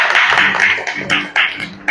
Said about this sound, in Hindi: एक बार तालियों के साथ अपने परमेश्वर की बड़ाई करें